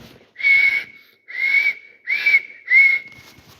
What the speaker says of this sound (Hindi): ध्रुव के होठों से सीटी का निकलना जारी रहा।